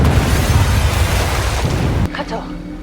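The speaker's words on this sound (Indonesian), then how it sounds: "Carter pun selamat dari ledakan" An explosion in an action film lets out a loud, dense, roaring blast for about two seconds, then cuts sharply to a quieter stretch where a voice is faintly heard.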